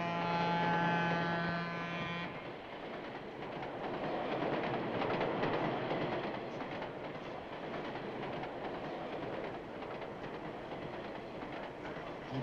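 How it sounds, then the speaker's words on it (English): A train rocks and rattles along the tracks with a steady, dense clatter and faint clickety-clack. A brief electric hum sounds at the start before fading out, with no speech over the moving car. "the rocking of the train"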